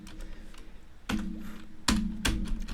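Typing on a computer keyboard while entering text in Microsoft Word, with a few distinct clusters of close keystrokes, faint at first and then louder, in short bursts.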